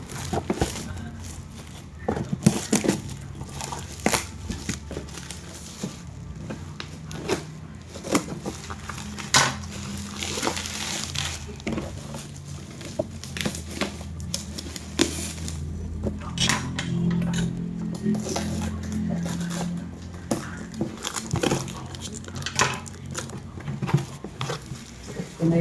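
A parcel holding a charcoal stove being unboxed, with a long run of close crinkling, tapping, tearing and scraping noises and occasional knocks, in a fairly busy indoor space.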